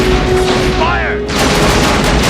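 Loud, dense gunfire rattles through a movie helicopter shootout from Con Air (1997), with heavy booming bursts, a brief dip partway and then more sustained firing, all mixed with a film soundtrack.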